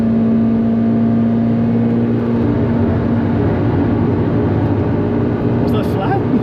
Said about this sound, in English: so I'm gonna keep it in 3rd, redlining